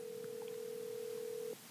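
A telephone ringback tone sounds as a call is placed, one steady unbroken tone lasting about a second and a half, clear and alone with no talk.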